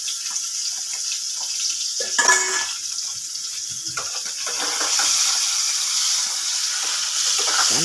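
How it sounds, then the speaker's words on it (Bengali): Boiled potatoes fry in hot oil alongside eggs, a steady crackling hiss that swells louder partway through, with occasional clinks of a utensil against the pan. "আলুটা ভেজে নিয়ে ভালো করে।"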